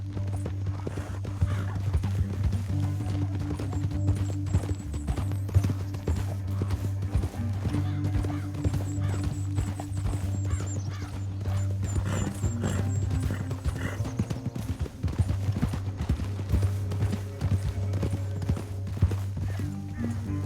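Steady clip-clop of horse hooves at a walking pace in the video game Red Dead Redemption 2, with occasional neighs and a low droning musical bed underneath.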